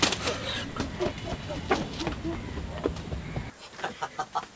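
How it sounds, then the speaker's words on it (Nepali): Rooster clucking in short bursts at a market-like setting, the sound moderately close and partly mixed with people talking, with a few louder clucks near the end. "ल भाले आइहाले ल यही हो भाले यही हो"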